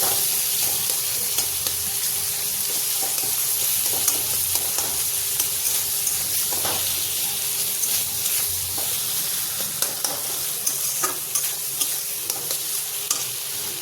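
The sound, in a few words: boiled elephant foot yam frying in a pan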